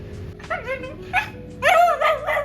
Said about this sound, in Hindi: शीशे में देख के भौंकने लगती है अपने आप को